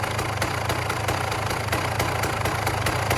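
A single-cylinder dirt bike engine idles steadily nearby, a loud, even thumping putter with no voices.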